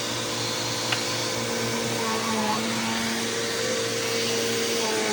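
A Dirt Devil Breeze vacuum cleaner runs on deep pile mats with a steady, loud motor whine and airy suction hum, unbroken from start to finish.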